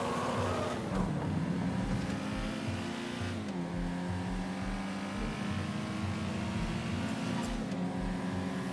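A street race car in the FiveM video game drives hard, its engine revving and shifting through gears in a loud, continuous roar with repeated pulses of acceleration.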